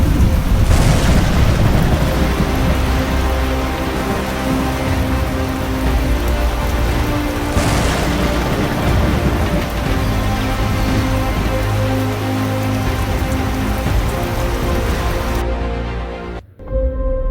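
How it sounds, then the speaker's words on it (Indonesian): Steady rain pours on a surface through a stormy drama scene, with low rolling rumbles of thunder swelling at intervals, loud and continuous until it cuts off abruptly near the end. "Kilat menyambar disertai bunyi gemuruh yang menggelegar."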